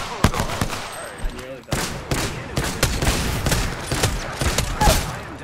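Rapid gunfire in Apex Legends, repeated sharp shot bursts in quick succession with a voice talking briefly between them.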